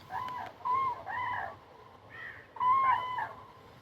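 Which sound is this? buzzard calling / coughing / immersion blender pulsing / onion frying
buzzard calling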